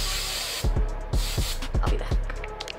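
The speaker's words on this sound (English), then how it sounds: "We're gonna do one last spray." A can of hairspray hisses onto styled hair in a long steady burst, then stops, followed by a series of soft low thumps and taps close to the microphone.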